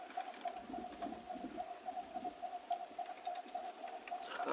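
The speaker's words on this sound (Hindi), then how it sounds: "कोई पक्षी बोलेगा," Pigeons or doves coo outdoors, a steady repeated call held at one pitch throughout, with faint birdsong and rustling in the background.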